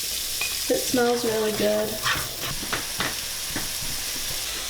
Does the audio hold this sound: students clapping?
no